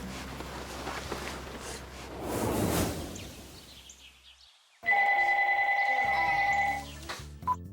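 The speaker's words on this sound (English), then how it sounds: "Later on, Jen got a phone call from Bryce." A telephone rings with an incoming call: one loud electronic ring lasting about two seconds that begins abruptly after a softer swish and a short near-silent pause, with no talking.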